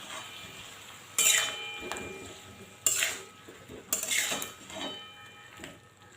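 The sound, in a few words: stirring and sautéing jackfruit and potato curry with spices in pan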